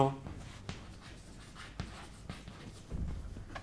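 Chalk or pen writing a single word on a board in a biology classroom, a few short scratchy strokes with a soft rustle between them, close and fairly quiet.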